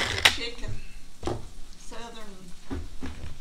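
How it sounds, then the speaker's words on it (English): Hamburger meat browning in a pan sizzles steadily in a home kitchen, with scraping stirs and clinks of a utensil against the pan, under intermittent voices talking nearby. "Browning some hamburger?"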